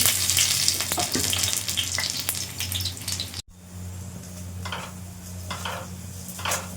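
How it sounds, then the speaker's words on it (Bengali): Oil heating on a griddle for oats flatbread, a sizzling spatter with clinks of cookware, briefly cutting out midway before resuming as quieter crackling with intermittent bursts. "তেল ছিটকাচ্ছে"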